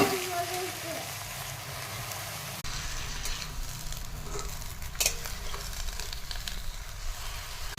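Washed hadga flowers sauté in a pan with cumin and ginger-garlic paste, giving a steady, close sizzle and crackle with brief stirring scrapes and no pauses.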